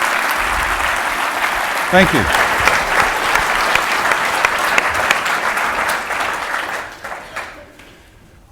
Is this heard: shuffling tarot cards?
no